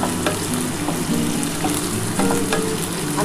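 Whole spices sizzling in a hot pan, a dense, continuous crackling fry close by with faint stirring scrapes over it, steady and loud throughout.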